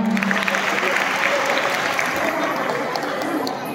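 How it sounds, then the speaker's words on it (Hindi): Loud, dense audience applause after a Saraswati Vandana dance at a school annual function in Bhopal, steady from start to finish and easing slightly at the end. "इनके लिए एक बार जोरदार तालियां।"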